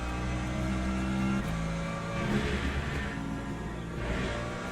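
Race car engine in Le Mans Ultimate droning steadily while warming the tyres, a sustained mid-pitched hum with mild revving swells, close and continuous throughout.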